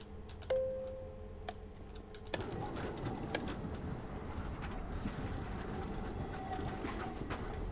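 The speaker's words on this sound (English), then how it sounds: "Tram." A tram rolling along rails in the video game Abiotic Factor, with a steady rumbling clatter that starts abruptly after a faint tone and a click, then continues loud and even, with light ticking over it.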